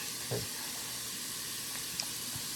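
Hashbrowns fry on high heat in a pan, giving a steady, close, even sizzle with faint crackles and a couple of small clicks.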